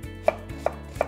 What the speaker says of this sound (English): We're going to cut these down in half